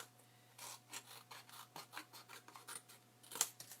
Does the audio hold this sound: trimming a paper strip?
yes